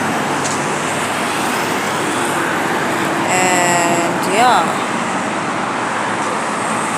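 Steady roadway traffic rumbles at a bus stop, with a vehicle passing and a brief tonal whine rising near the middle, while a person talks briefly over the noise.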